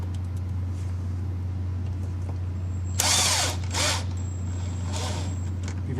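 A power drill drives half-inch screws into a thin eighth-inch backer, giving two short whirring bursts over a constant low electrical hum, the second burst softer.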